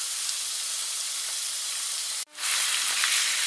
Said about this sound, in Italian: Aggiungiamo un goccino d'acqua in modo di non far friggere la cipolla.